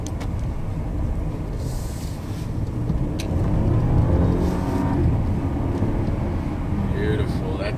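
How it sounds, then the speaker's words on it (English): An Audi A7 Quattro engine hums at speed while driving, a steady road drone with tire and wind noise that swells briefly midway, with someone talking over it. "The sound of that engine is just off the chain."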